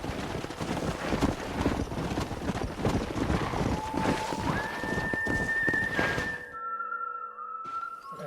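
A stallion in Red Dead Redemption snorts and clops with heavy hoof thunks, then gives a long whinny while wind blows, loud and close before trailing off into quieter sounds.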